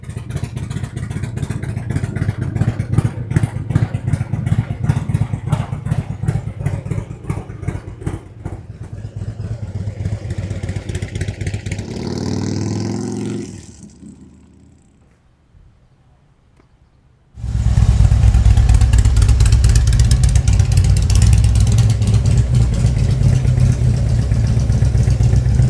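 A motorcycle engine with a Stage 2 build and ThunderMax tune idles loudly and steadily up close, falls silent for a few seconds, then fires back up into a strong, even idle.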